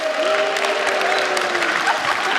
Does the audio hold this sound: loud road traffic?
no